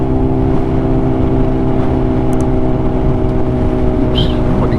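A Honda CBR motorcycle engine drones steadily while riding, loud and close, a constant hum with no gaps throughout.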